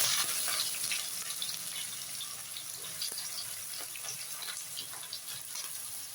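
Three medium onions frying in oil with bay leaf and spices for a prawn biryani, a steady soft sizzle running throughout with faint scattered crackles and no talking.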